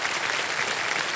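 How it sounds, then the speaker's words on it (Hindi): Brief burst of studio audience applause on the KBC game show, a dense, even clatter of many hands clapping for just over a second. "ताली बजती रहे इनके लिए।"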